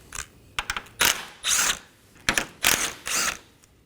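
A hand ratchet clicks in several quick bursts of rapid pawl ratcheting, up close, while undoing 8mm bolts on a bracket holding transmission oil cooler lines to the radiator of a Dodge Durango.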